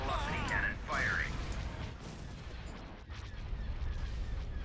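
Hypervelocity cannon fire in a Star Wars space strategy game, a dense rumbling barrage of booming shots running continuously under game voices and player talk, with tonal chatter near the start.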